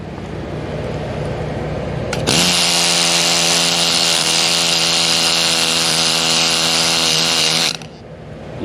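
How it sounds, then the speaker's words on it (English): A needle scaler cleans a fresh weld on a damaged swimming pool, a loud, dense, rattling mechanical buzz that starts abruptly, holds steady for about five seconds, then cuts off. "let's clean that up with a needler and see if we got any holes"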